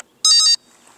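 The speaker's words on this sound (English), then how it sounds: "Let's turn this on. Should hear a beep." A single short, loud electronic beep, a bright tonal chirp lasting about a third of a second, against near silence.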